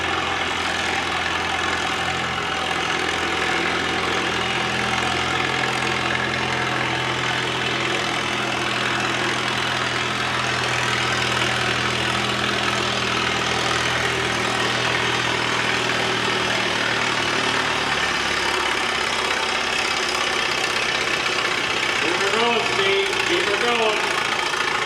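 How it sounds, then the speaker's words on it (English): A Minneapolis Moline antique tractor roars steadily at full load during a tractor pull, its engine note holding loud and constant for the whole stretch, with a crowd and background noise mixed in. "Steve Engel from Smithfield, Illinois, driving a Minneapolis Moline."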